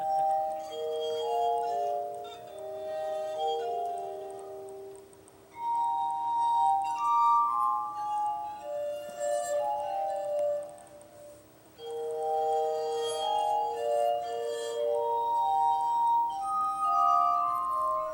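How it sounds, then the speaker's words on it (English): A glass armonica plays ethereal, bell-like sustained glass tones in a slow melody, notes overlapping and ringing softly, with brief pauses between phrases. "I have borrowed from it the name of this instrument, calling it the armonica"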